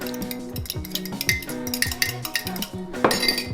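Two eggs whisked in a mug, a fast, continuous metallic clinking of a utensil against the sides with a steady scraping rhythm, close and clear, no talking.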